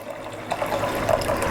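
Water pours and trickles into a pan that is being readied for waxing canvas Burley saddle bags, a short steady splashing stream heard up close with nobody talking.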